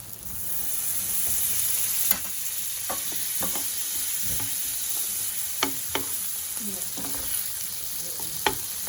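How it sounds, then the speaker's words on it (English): Butter melts and sizzles in a pan of mushrooms for a steak and mushroom sauce, a steady hiss broken by scattered knocks and scrapes of stirring, close up and with no talk. "So just chop a little bit of butter and put it on the pan with the mushrooms"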